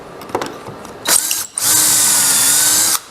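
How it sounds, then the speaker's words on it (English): A power drill bores pocket holes into wooden side rails of a camping table, with short bursts followed by one steady, loud two-second run close by. "I'm putting pocket holes in the side rails"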